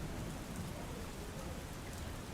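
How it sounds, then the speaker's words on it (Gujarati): Heavy monsoon rain pours down in Valsad in a dense, steady hiss, loud and unbroken throughout, with no voices. "વલસાડમાં પણ સતત પાંચ દિવસથી વરસાદ વરસી રહ્યો છે"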